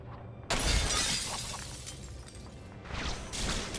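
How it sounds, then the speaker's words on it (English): Glass shatters in the LEGO Marvel Superheroes 2 video game with a sudden loud crash and a scattering of fragments, followed by a second, quieter wave of tinkling debris. "Well, there's the glass break."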